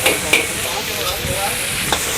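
In a food stall kitchen, chicken cap cay and vegetables hiss loudly in a wok, the constant sizzle broken by a few sharp clinks of the stirring utensil, close up and without voices.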